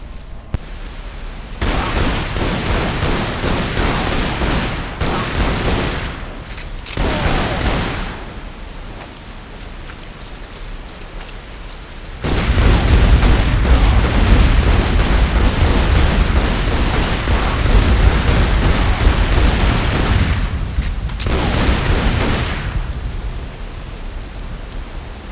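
Heavy gunfire roars in long bursts while fighting human enemies in the video game Tomb Raider Underworld, loud and dense, with brief lulls between volleys.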